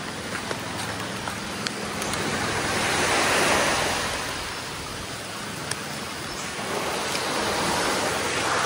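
Strong, steady wind roars over crashing surf at an island shore, a dense continuous wash that swells and eases slightly, with no voices.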